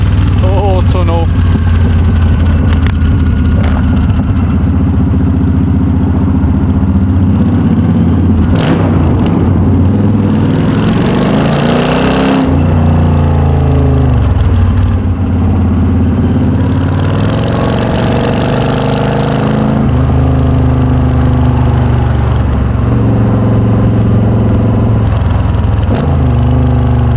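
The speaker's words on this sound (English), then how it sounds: "I'm just enjoying how quick this bike feels without my panniers on." Yamaha XVS V Star 1300 motorcycle ridden without panniers, its engine droning loud and close as it accelerates and shifts, with wind rush and a rider talking over it.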